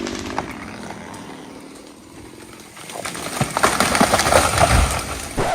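A chainsaw cuts through a big tree trunk outdoors, its buzzing engine fairly quiet at first and then growing louder and rougher partway through as the blade bites into the wood.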